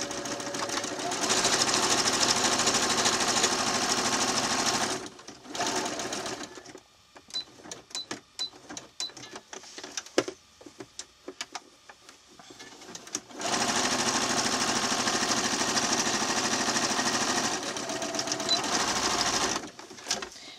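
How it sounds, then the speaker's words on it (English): A sewing machine running a small zigzag stitch on fabric for a Scotty dog toy, in two long steady whirring bursts separated by a pause filled with clicks and handling. "I'm using a small zigzag stitch because it's a bit stronger"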